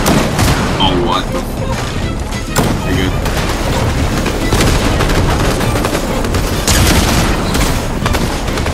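Loud, continuous gunfire in a shooter video game, repeated booming shots and bursts packed closely together, with players talking over the action.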